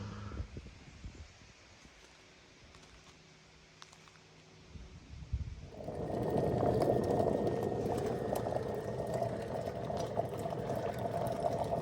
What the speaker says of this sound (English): Well, it looks like the kettle is doing its work.